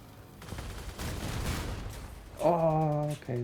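Cannons fire in a multiplayer kaiju battle video game, a rough burst of heavy booming blasts in the first half, followed by loud tonal electronic game sounds.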